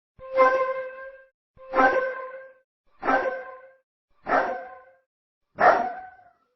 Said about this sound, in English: If I move the slider from the flute to the dog bark, the flute will begin to take on the characteristics of the bark.